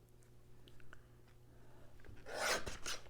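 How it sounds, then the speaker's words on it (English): A straight trim cut is made on a scrap of card-making paper. A few faint clicks come first, then a short, quiet rasping slice near the end, with no talk. "So I may just do a trim, a straight cut on here and use that piece."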